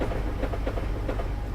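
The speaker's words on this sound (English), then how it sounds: "Oh, another train." A train passes in the Train Simulator video game, giving a steady loud rumble with a regular clickety-clack of wheels over rail joints that runs through the whole stretch, with no talking over it.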